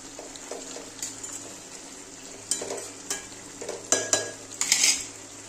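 Chicken kosha meat sizzles gently as it fries in a pan, with a faint steady hiss underneath. Irregular scraping stirs and sharp clinks of a utensil against the pan come close and grow busier toward the end. No one speaks.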